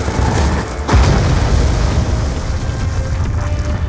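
In Call of Duty Black Ops 2, a kinetic strike weapon explodes: a loud, deep boom at about one second, followed by a sustained rumbling roar of debris and fire.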